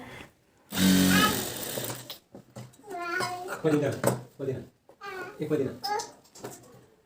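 A sewing machine stitches a button placket onto cloth in a short loud burst of running, followed by someone talking.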